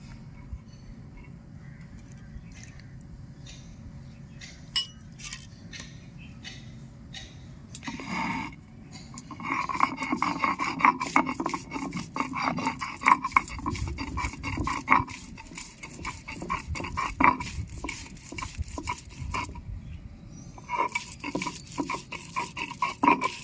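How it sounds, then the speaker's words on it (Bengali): Soaked urad lentils are ground on a stone slab with a grinding stone (shil-nora): soft, rhythmic scraping and rolling strokes, quiet at first and then busier and more continuous. "এখন আমি শিলনোড়ায় বেটে নেবো"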